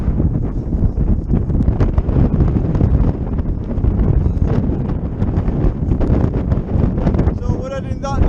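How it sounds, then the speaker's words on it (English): Strong wind roars and buffets the microphone outside a tent, a loud, continuous rumbling gust, with a faint voice near the end. "I'm having to shout a bit because of wind"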